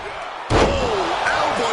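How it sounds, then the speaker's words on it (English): A heavy body slam lands in a WWE 2K26 wrestling game, one loud sudden impact followed by crowd noise and a commentator talking over it. "Big splash. It's like an SUV falling on you."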